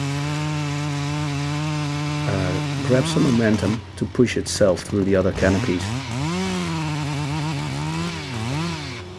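Chainsaw cutting loose a tree tangled in the canopies of neighbouring trees, a steady drone that bogs and rises in pitch as the saw labours and protests through the wood, with someone talking over it.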